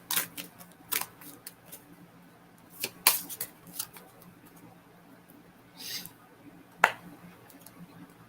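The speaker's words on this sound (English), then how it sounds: "It's so challenging shuffling." Tarot cards being shuffled, a series of sharp, close riffling snaps and flicks in irregular bursts separated by quiet pauses, with faint background hum.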